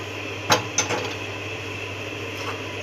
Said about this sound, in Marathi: चला आता आपण सुकट भाजून घेऊया.